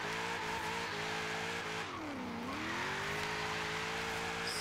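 A Toyota car racing in Need for Speed Most Wanted, its engine droning at a steady pitch with a few gear-change dips and a deep swooping drop and climb midway, loud and continuous.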